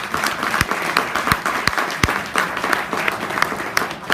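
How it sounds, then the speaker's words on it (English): A crowd applauds steadily, dense clapping filling the room, with a few sharper, louder claps standing out from the mass. "Let's give a round of applause for all of our candidates."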